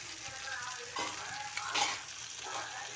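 Cauliflower chilli frying in a pan gives a steady close sizzle with scraping stir strokes and a brief louder clatter near the middle; no one talks.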